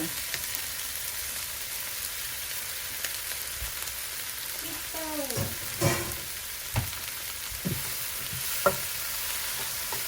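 String beans sizzle in a hot pan while being stir-fried for pinakbet, a steady frying hiss with occasional scrapes and clinks of a utensil stirring, fairly close.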